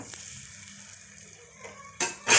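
Lauki (bottle gourd) paratha frying in ghee on a hot griddle over medium heat, a soft steady sizzle throughout with a louder burst of crackling near the end, no talking.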